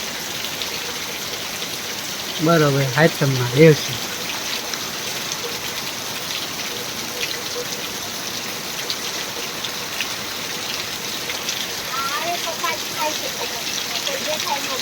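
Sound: heavy rain falling

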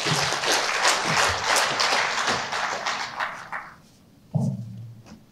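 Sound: applause for court staff at a meeting

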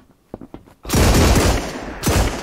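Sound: gunfire in a video game

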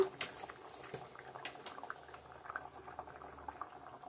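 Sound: egg curry with potato and pointed gourd simmering in pot

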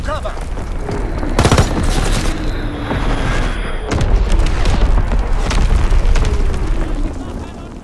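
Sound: artillery and bomb explosions in video game Call of Duty WWII

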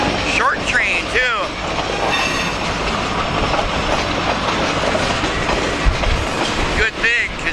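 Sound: short freight train KLS 402 and 503 passing

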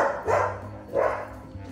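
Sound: dog barking

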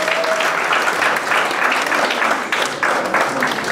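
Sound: wedding guests applauding the master of ceremonies

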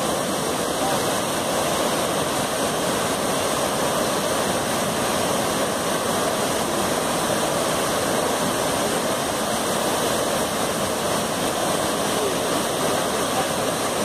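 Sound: waterfall

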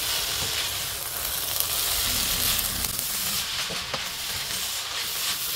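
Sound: stir-frying vegetables for spring roll filling

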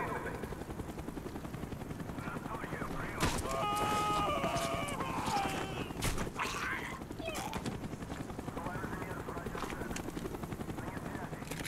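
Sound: helicopter flying overhead in video game Call of Duty: Black Ops

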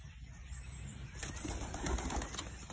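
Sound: pigeon cooing

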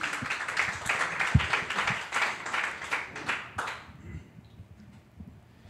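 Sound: audience applause

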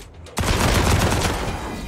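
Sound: gunfire in Wasteland 3 video game

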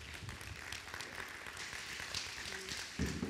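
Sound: applause

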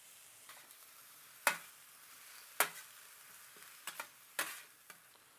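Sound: garlic and onions sautéing in a pan

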